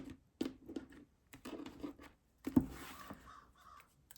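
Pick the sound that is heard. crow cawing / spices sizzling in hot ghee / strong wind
crow cawing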